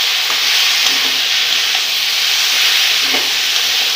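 Vegetables and paneer sautéing in a pan, a steady hissing sizzle of frying that holds at an even, fairly loud level with faint scraping touches.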